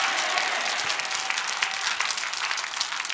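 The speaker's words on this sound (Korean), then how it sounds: "박수 치라고, 백수 치라고." Steady applause from a church congregation at an evening worship service, a dense continuous wash of clapping hands filling the room at even loudness, with no talking over it.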